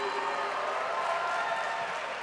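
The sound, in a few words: audience applause at Power Shift event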